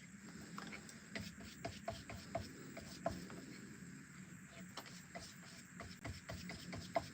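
A very dry paint brush rubbing across a page of an art journal, faint repeated scratchy strokes in an uneven rhythm, close by, with no talking.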